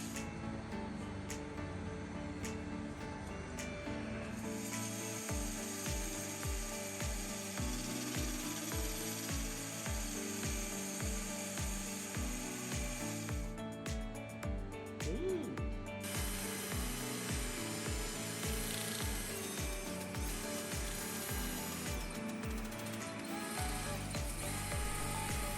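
Steady mechanical whirring of a spinning woodturning lathe with a rapid, repeating ratcheting rhythm as a tool cuts into wood shaping a vase, loud and continuous throughout.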